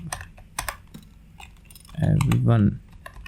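Rapid, close clicks of typing on a computer keyboard while writing a shell script, sparse keystrokes scattered throughout, with a voice speaking briefly near the end.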